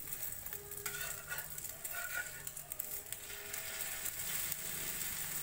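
Egg omelet frying in a pan as it is folded, a steady faint sizzle with soft scraping and stirring taps of a spatula, no voices.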